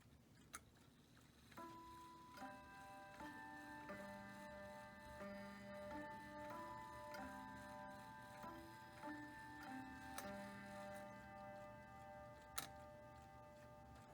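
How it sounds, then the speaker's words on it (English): A Hershey wind-up clock ticks in a steady, even rhythm, close but faint, while soft melodic chime tones ring through much of the stretch. "This was the first ever wind-up clock I got from my collection."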